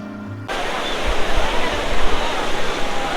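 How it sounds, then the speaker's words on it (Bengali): Sea waves at Cox's Bazar beach, a loud close continuous wash of surf and roaring water filling the clip after a brief quieter start. "সমুদ্রের পানির যে ঢেউ ঢেউর শব্দ শুনতে পাচ্ছেন"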